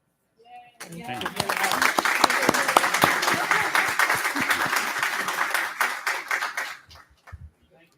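At a board of education meeting the audience breaks into applause, a dense burst of clapping that starts suddenly and holds steady before tapering off, with voices briefly audible around it.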